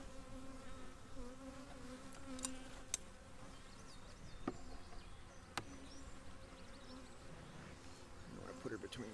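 Honey bees crowd around a queen cage, making a steady, soft, close hum of many wings with occasional nearer buzzes passing by.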